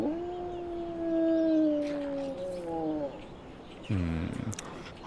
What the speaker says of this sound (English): Probably that right there. It's that dog.